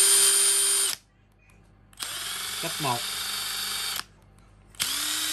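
A Makita TD137D cordless impact driver runs in steady high-pitched bursts of about a second or two, separated by pauses, while someone briefly speaks.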